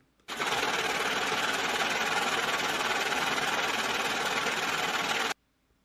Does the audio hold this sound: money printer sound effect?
yes